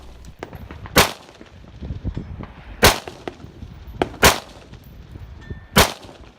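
Rifle shots ring out at a steel-target match, with four sharp, loud cracks spaced roughly 1.5 seconds apart at LaRue steel targets about 250 yards off. Fainter metallic pops and clangs fill the gaps.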